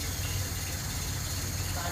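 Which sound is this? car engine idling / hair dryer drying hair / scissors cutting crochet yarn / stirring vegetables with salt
car engine idling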